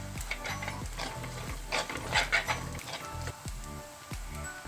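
Spoon stirring chicken with curry leaves and ground fennel in a pan, with steady scraping strokes in a regular rhythm over a soft sizzle, close and moderately loud.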